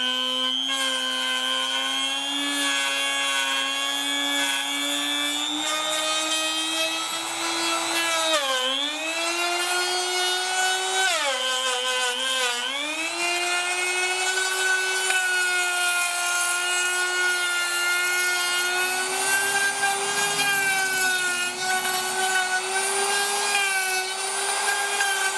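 A Harbor Freight trim router, item 62659, cuts along a wooden edge, whining steadily and close for the whole stretch, its pitch dipping briefly twice as the bit bites into the wood before recovering.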